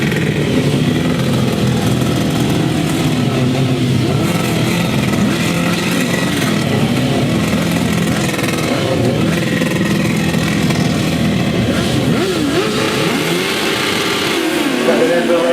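Grasstrack racing motorcycles rev and accelerate off the start together in a loud, continuous roar of several engines with rising and falling pitch, while a commentator talks over the noise throughout.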